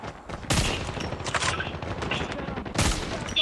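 Rapid shotgun and gunfire blasts from an online shooter video game crack loudly and repeatedly, with heavy bursts near the start and end over continuous game noise.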